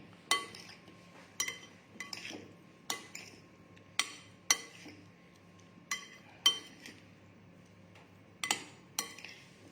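Onion cubes being mixed into a paneer and vegetable marinade in a bowl, a steady series of sharp clinks and taps of a utensil against the bowl, about a dozen strikes, quiet and close with no talk.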